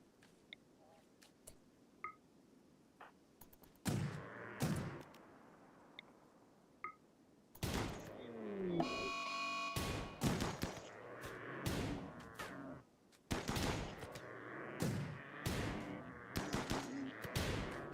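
Gunfire from colonists hunting a mega sloth in Rimworld: after a quiet start with faint clicks, loud rapid shots burst in clusters, sharp and close, with brief pauses between volleys.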